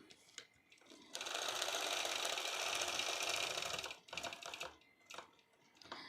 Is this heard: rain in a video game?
no